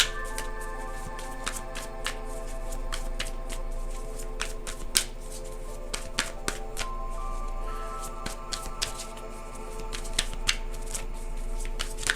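Tarot-style truth cards are shuffled by hand at close range, a run of quick papery riffles and soft slaps repeating irregularly over a faint steady hum. No talking.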